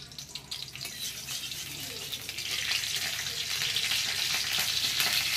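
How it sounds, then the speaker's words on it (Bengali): Nigella seeds tempering in hot oil for thor bhorta (banana stem mash), a close sizzle that swells into a louder, brighter hiss partway through, with no talking. "তারপর দেবো কালো জিরে, ফোড়ন দেবো।"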